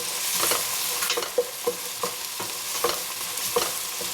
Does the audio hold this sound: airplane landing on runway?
no